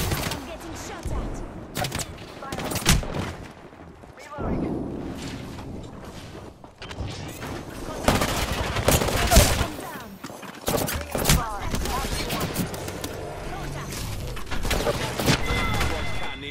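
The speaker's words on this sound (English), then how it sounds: "I'm getting shot at." Gunfire in a ranked battle royale video game, repeated bursts and single shots at varying distances, loud and irregular, with quieter gaps between exchanges.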